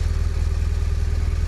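A BMW R1200RT touring motorcycle idles close by, its boxer engine giving a deep, even, pulsing throb with a faint mechanical clatter, steady and loud with no talk.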